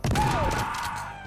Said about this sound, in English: So I can move over here and shoot him with the shotgun.